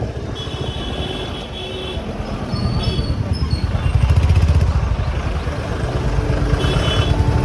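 A motorbike rides along a mountain road near the Tungnath and Chandrashila trek in Chopta Valley, giving a steady low engine rumble mixed with wind noise that swells slightly midway.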